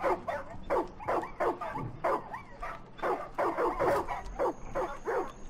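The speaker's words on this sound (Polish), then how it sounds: "Wypuścimy te psiaki." Several dogs barking in the Far Cry 5 video game, a steady run of close, repeated yelping barks and whimpers in quick succession.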